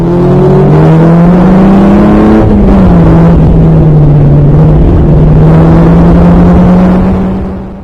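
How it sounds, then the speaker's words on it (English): A classic Formula Ford race car screams at high RPM on the Cadwell circuit, one loud, continuous engine tone climbing, dipping briefly at a shift, then holding steady, close and dominant throughout. "I'm really pushing the engine as much as I can"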